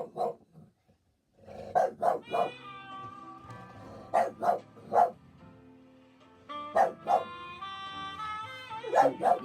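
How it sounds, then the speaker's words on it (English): A dog at a comic convention gives a string of loud, close barks and yips in clusters, with pauses and a whimpering tone between them. "Let me get this dog out of here."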